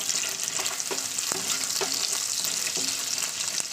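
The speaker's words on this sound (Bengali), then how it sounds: "সেখানে তেলটাও দিয়ে দিলাম, পেঁয়াজটাকে। তো এটাকে কিছুক্ষণ নাড়াচাড়া করতে হবে।" Onions fry in mustard oil while being stirred, a loud continuous sizzle broken by regular scraping strokes of a spatula against the pan, with no voices.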